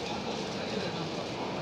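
A Kochi Metro train running, a steady low rumble and rolling rail noise heard from inside the carriage, continuous and even in level, with no distinct talk.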